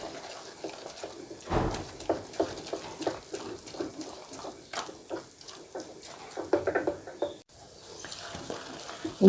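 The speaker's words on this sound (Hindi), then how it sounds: "तकरीबन 30 मिनट हो गए हैं मुझे चने की दाल की भुनाई करते हुए" Chana dal stirred and roasted in a pan for halwa, with steady scraping strokes and soft sizzling, close and continuous, with repeated rhythmic stirring.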